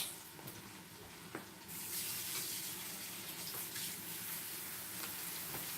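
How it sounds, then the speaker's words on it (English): Tap water runs into a pot holding two cups of rice for rinsing, a steady close splashing gush that swells louder partway through, with a few clinks and no talk. "So that's 2 cups. I'm going to put that in there to rinse."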